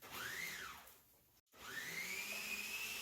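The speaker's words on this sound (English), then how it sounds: "Now you want to put this in a blender." A blender whirs through cream cheese and persimmons, its motor pitch rising and sagging under load, cutting off briefly, then restarting and holding a steady high whine, close and loud.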